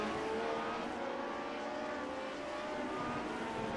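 Engines of classic Lotus Grand Prix race cars droning at high revs down a long straight at the Indianapolis GP Circuit in iRacing, a continuous loud whine with shifting tones.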